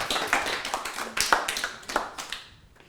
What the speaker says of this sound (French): Je pense que vous pouvez applaudir.